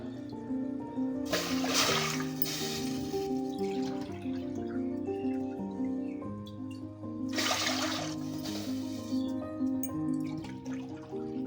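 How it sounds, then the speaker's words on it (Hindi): Water is poured from a glass into a pot for a rice papad recipe, two splashing pours a few seconds apart over a steady tonal background hum, close and clear. "पहले तो हम इस गिलास से 4 गिलास पानी डालेंगे।"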